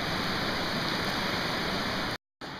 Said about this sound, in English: Some serious weather out there.